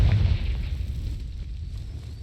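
A blasting-spell explosion in Hogwarts Legacy hits with a loud, deep boom at the start and then dies away into a rumbling, fading tail, with no voices.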